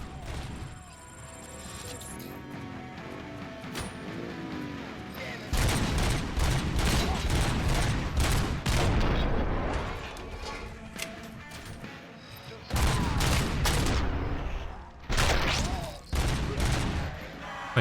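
Bursts of gunfire in the RoboCop: Rogue City video game, loud clustered volleys starting after a quieter stretch of game ambience, with intermittent talk mixed in.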